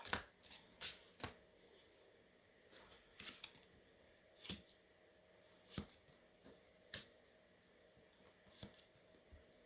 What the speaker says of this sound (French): On va tirer la suite des cartes pour votre mois de mai